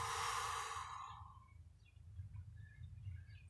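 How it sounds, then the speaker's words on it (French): A deep sigh-like exhale during a Pilates push-up hold, broad and breathy for about a second and a half before fading into quiet low room noise. "position pompe, j'inspire, j'expire profondément 3 fois"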